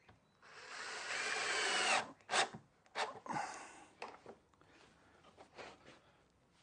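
A power drill drives a screw into a piece of timber with one sustained whir lasting about two seconds, followed by short bursts of drilling and scraping handling noises, close and fairly loud with no talk.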